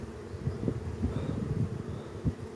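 Honey bees buzz steadily around a hive frame in a Ukrainian-style hive, a dense low hum with small swells, close and fairly quiet, with no talking.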